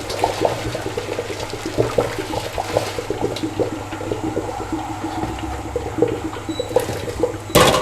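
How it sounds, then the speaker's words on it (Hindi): Boiled potato water is poured out through a colander in a steady, close rushing gush that runs continuously for several seconds. "अब हम चाननी की मदद से इसका पानी जो है वो निकालेंगे।"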